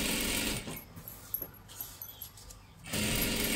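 A sewing machine stitches dress fabric, its motor whirring in loud, close bursts at the start and end with quieter, sparse mechanical ticks in between.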